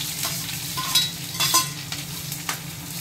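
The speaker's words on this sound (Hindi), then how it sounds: "तेल गर्म हो गया, अब इसमें हम डाल देंगे तड़का" Tempering spices sizzle and crackle in hot oil in a kadai, a bright continuous hiss with a few louder bursts as they are stirred, close by.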